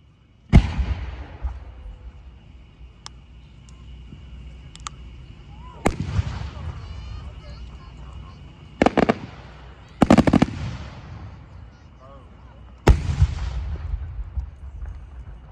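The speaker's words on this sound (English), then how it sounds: "And the last of the individual master shells, AJ Burns with a 12-inch chrysanthemum." Aerial firework shells burst at a pyrotechnics competition. Five or six deep booming bangs ring out at irregular intervals, each trailing into crackle and echo, with faint sharp pops between them and distant crowd noise underneath.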